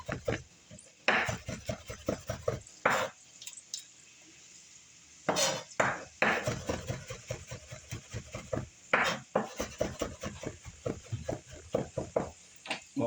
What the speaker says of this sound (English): we're going to take the garlic and we're just going to cut it up